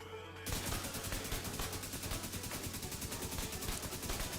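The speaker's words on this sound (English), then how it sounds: "It's been a while since I've used an AK" Sustained automatic AK rifle fire in The Division 2, a rapid steady stream of sharp gunshots starting abruptly and continuing without pause, loud and close.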